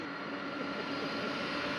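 Steady broadband roar of a jet airliner taxiing slowly onto its parking stand at Roissy airport, continuous and fairly close, with no talk over it.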